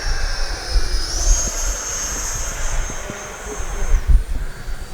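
E-flite Viper 90mm electric ducted-fan RC jet passing at three-quarter throttle, a loud steady whooshing whine that rises and falls in pitch as it flies by, with wind noise beneath.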